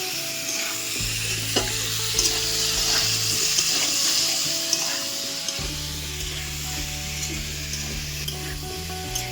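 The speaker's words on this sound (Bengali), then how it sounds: "আমি আলু আর কুমড়োটা নাড়াচাড়া করে নিয়েছি" Potatoes and pumpkin frying in a pan are stirred, giving a continuous close sizzle with intermittent scraping and light knocks, while a low steady hum runs underneath in stretches.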